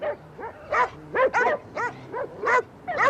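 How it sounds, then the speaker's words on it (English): Dogs bark about eight times in a steady, evenly spaced series of sharp barks, fairly close and clear. "I've never heard so many dogs."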